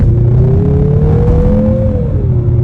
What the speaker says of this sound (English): we'll have a chance to try an acceleration off the line. Give like a little bit of gas, and let's go